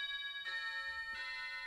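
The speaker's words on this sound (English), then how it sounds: "you'll hear the doorbell a second time" Wireless doorbell set off by a HackRF radio replaying its captured signal, two quick bright chime tones about half a second apart, faint and distant in the background.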